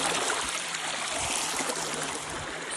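Steady rushing of river water in a summer swimming spot, continuous broadband flow with a faint gurgle, fairly close and with no voices.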